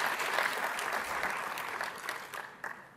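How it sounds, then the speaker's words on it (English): Audience applause in a conference hall at a VMworld 2015 session, steady dense clapping from a crowd that slowly fades toward the end. "a round of applause for the Zappy Electric folks"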